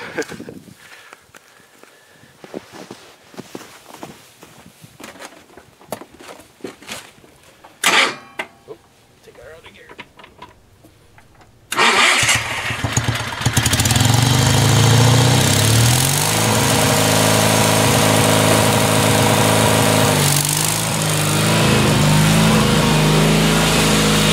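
Sears SS16 garden tractor engine cold-starting in winter: scattered clicks and knocks first, then the engine catches and runs loud and steady, with a voice speaking briefly early on.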